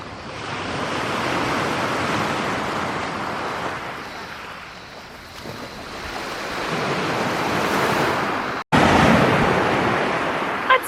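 Waves wash steadily onto a Greek beach below steep hills, a loud continuous surf rush with rising and falling swells, heavy wind buffeting the microphone and a sharp break near the end.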